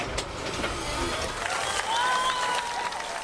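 Rally mechanics applaud at a World Rally Championship service area as the winning driver's car arrives in Finland. The clapping is scattered and mixes with engine and road noise, with a few high squeaks over the top.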